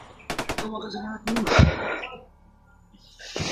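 Gunfire rings out in two quick rapid bursts, followed by a louder blast and a heavy thump, with voices and shuffling movement in between and trailing off.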